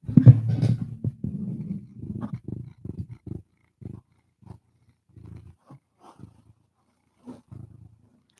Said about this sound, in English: Just purring like a little princess.